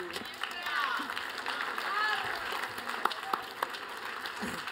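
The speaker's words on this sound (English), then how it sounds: "So, round of applause." Scattered, fairly soft applause from a gathered audience at a planning meeting, with individual sharp claps standing out near the end and voices talking over it.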